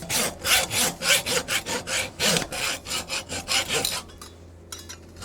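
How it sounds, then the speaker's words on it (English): A hacksaw cuts the tip off a nail held in a vise, rhythmic rasping strokes about three per second, close and distinct, slowing into lighter scrapes at the finish. "I'm just going to use a hacksaw to cut the tip of the nail off."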